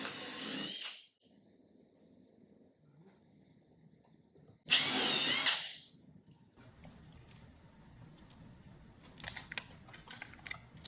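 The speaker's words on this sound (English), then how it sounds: "Remove the rivets on each side of the threshold with a narrow drill bit" Two short, loud bursts of a power drill whining as a narrow bit drills out rivets on a walk-in freezer door threshold, about a second each, separated by quieter handling noises and light clatter.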